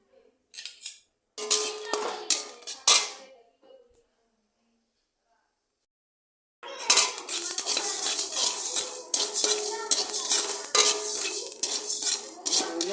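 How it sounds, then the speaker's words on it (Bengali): Spices and dried red chillies being roasted in a pan for a brinjal kofta recipe, with metallic clinks and scraping of a spoon against the pan in short bursts, then a longer run of steady stirring, alongside a voice. "মশলাগুলো এখন ভেজে নিচ্ছি আগে লঙ্কাটা একটু দিয়ে দিচ্ছি"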